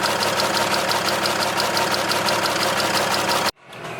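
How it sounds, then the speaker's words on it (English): A Cummins diesel in a Megacab dually truck idles with a steady, rhythmic knock ticking through its clatter, loud and close, then cuts off abruptly near the end. "The sound's still, the knock's still there."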